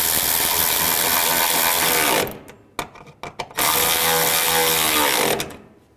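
Loud, close ratchet clicking in fast continuous runs as bolts are tightened on a Chrysler 200 radiator cooling fan, with one burst, a pause broken by a few short clicks, then another long run that stops near the end.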